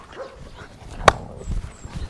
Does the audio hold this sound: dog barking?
yes